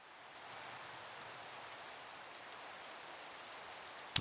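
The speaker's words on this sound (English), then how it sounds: "The rain sounds are pretty stereo right now." Rain falls in Minecraft's Vault Hunters modpack as a soft, even hiss of rainfall, faint and continuous, with no talking over it.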